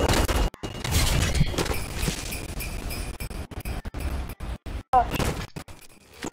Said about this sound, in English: Did you guys hear that sound? The impulse grenades go.